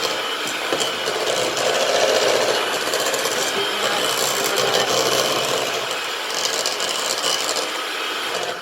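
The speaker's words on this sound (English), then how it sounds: "Stand mixer, you can use a hand mixer if you're really into doing it the old-fashioned way" A stand mixer beats cake batter for a stout cake, giving a continuous whirring motor drone with a scraping, rasping texture from the beaters in the bowl, loud and close without pause.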